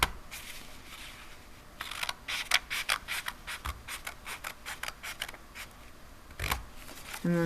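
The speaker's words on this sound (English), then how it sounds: "You're cutting a folded piece of paper, so it's going to be a little harder to cut." Scissors snip through a folded sheet of paper for a craft loom project, a quick series of crisp close cuts in irregular bursts, quiet and without talk.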